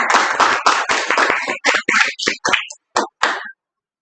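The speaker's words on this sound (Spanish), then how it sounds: "les pido también un fuerte aplauso" A small audience applauds with brisk, close hand clapping that starts dense, then thins into a few scattered claps before stopping.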